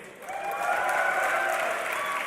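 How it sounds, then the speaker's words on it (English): A packed hall at a DreamHack League of Legends semi-final roars and cheers for Fnatic, a loud sustained wash of crowd noise and applause building quickly and holding steady throughout. "I want to see who here is cheering for Fnatic"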